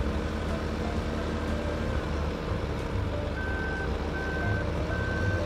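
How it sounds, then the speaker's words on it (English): A vehicle in Farming Simulator 15 reverses under throttle, its engine droning low and steady while a reversing alarm beeps in a regular repeating pattern over the top, no voices. "I guess the easiest way to stop is just put it in reverse and hit the gas."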